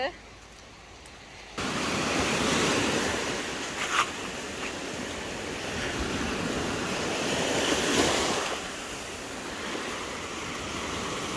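Ocean surf at a beach in Acharavi, Corfu, Greece rolls in as a broad, continuous wash of noise, swelling and easing, with wind buffeting the microphone now and then.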